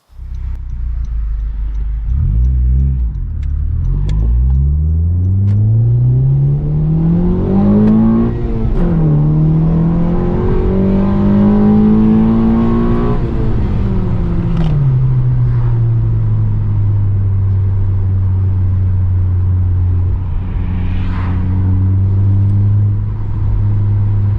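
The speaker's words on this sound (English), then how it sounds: "let's go ahead and go for a drive to see how it actually functions through the red line." A Honda car accelerates hard through its gears, engine pitch climbing toward redline and dropping at each shift, then easing into a steady cruising drone, heard loud from inside the cabin.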